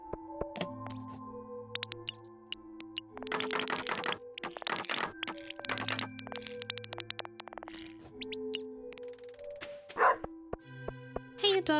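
A dog barks in the Stardew Valley farming game in short repeated bursts of yips and woofs over steady chiptune farm music.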